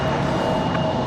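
An American Airlines Boeing 737 departing from Raleigh-Durham airport roars as one steady, dense jet engine sound heard at a distance, with no break over the short stretch.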